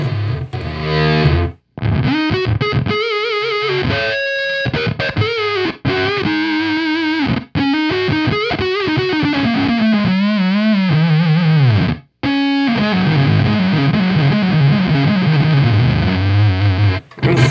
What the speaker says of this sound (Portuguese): se eu zerar tudo aqui, você vai ter um som de fuzz.